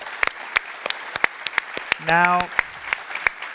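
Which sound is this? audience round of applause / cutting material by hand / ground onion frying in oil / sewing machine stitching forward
audience round of applause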